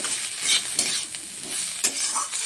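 Cabbage stir-fried in a pan with turmeric, cumin and Kashmiri chili powder gives off a steady close sizzle, with scraping stirs and a few clinks of a spatula against the pan.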